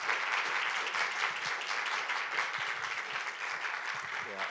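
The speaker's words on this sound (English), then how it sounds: "Can I get a round of applause for our wonderful panelists?" An audience at a book event claps for the panelists, a full, continuous round of applause throughout, with voices mixed in beneath.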